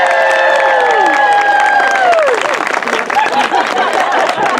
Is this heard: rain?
no